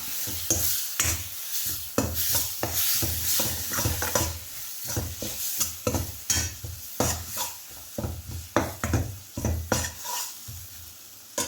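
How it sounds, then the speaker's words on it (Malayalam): A utensil scrapes and stirs repeatedly through curry in a sizzling pan, irregular strokes over a constant frying hiss, close and fairly loud with no talking. "അതുകൂടി ഒഴിച്ചു കൊടുത്ത് നമുക്ക് നല്ലതുപോലെ ഇളക്കി കൊടുക്കാം."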